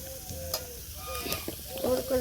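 Koi fish frying in a pan with a steady crackling sizzle, joined by scraping stir strokes and clinks, while a voice talks quietly in the background.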